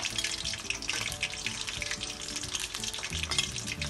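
A minced pork roll browns in a pan over low then high heat, giving a steady, close crackling sizzle that runs without a break the whole time, with faint scraping and stirring mixed in.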